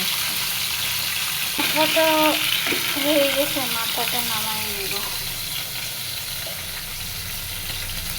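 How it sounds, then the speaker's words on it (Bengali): Belly pieces of fish fry in hot oil for a home-cooked Jamai Sasthi meal, a steady close sizzle running throughout while a voice talks over it for a few seconds. "পেটিটা ভালো করে ভাজা হোক"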